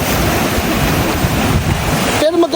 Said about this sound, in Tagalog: may mga rock formation dito na pinapalo talaga siya ng alon